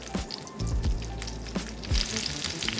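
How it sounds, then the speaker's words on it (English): Falafel sizzle and crackle in hot canola oil, a steady close frying hiss with scattered pops and bubbling. "As you can see now, we start frying the falafel"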